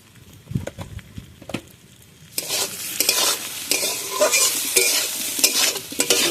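Turmeric, cumin and homemade masoor dal bari dumplings sauté in a pan, quiet scrapes and taps at first, then a loud sizzle as stirring continues rhythmically.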